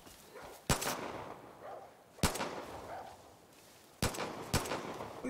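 Gunfire in the video game Far Cry New Dawn: four sharp, loud single shots spaced irregularly over five seconds, each cracking out of a low ambient background with a short decaying tail.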